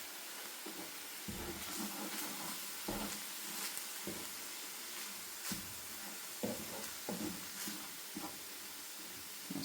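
Worcester sauce sizzling and steaming off in a hot pan of mince, a faint continuous hiss with occasional soft stirring scrapes, no voices.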